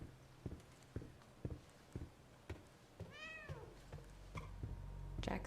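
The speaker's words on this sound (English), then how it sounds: "Can I pet the kitty?" A cat meows once in the video game The Medium, a clear rising-and-falling call midway through, set among regular soft footsteps and quiet ambient game sound.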